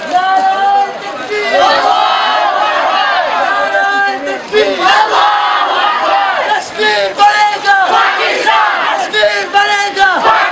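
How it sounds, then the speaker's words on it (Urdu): Students at a Kashmir solidarity rally in Bumburet, Kalash chant slogans together, a loud, rhythmic crowd of voices rising and falling in repeated shouted phrases. "اس موقع پر طلبہ نے کشمیریوں کو حق دو اور مودی مردہ باد کے نعرے بھی لگائے"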